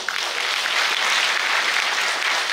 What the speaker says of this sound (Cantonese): 再次以掌聲感謝佢哋